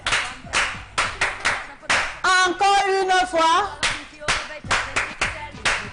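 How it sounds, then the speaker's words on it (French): An audience claps together in bursts at a morning event, loud and near, with a sung or chanted passage in the middle and a voice speaking briefly. "on applaudit pour lui comme à l'école primaire."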